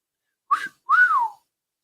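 A person imitates a wolf whistle: a short rising note, then a longer note that rises and falls, sharp and close against silence.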